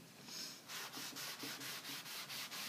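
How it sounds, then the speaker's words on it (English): A clean rag rubs wax into a Swedish-style painted finish with quick, even back-and-forth strokes, a soft rhythmic scrubbing close up and fairly quiet, with no voices. "what I'm going to do is just rub the wax into the finish"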